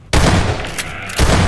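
A video game grenade blasts loudly and abruptly, followed by a rumbling debris tail, then a second heavy explosion hits near the end of the short burst.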